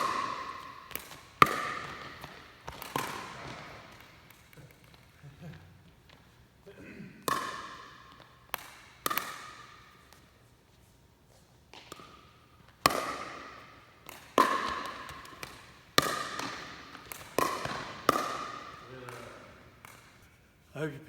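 Paddles strike a plastic pickleball in a series of sharp, hollow pops during a rally, each crack ringing out briefly in uneven rhythm with short gaps between shots.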